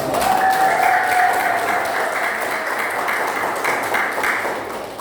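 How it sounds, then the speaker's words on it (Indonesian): Audience applause at a guest lecture for early childhood teacher training, sustained steady clapping from a crowd at even loudness, with a faint ringing tone in the room at the start. "Tepuk tangan dulu dong."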